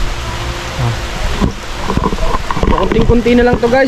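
Rain falling outdoors at a construction site with welded steel trusses, a loud steady wash that swells in the second half, with someone talking over it.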